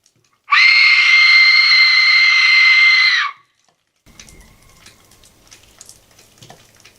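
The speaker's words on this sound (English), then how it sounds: "I'm going to be using this Aztec death whistle to try to summon something or see if anything out here wants to communicate with me" An Aztec death whistle is blown once outdoors in the Appalachian wilderness, a loud piercing scream lasting about three seconds, then cutting off to quiet rustling and faint distant noises.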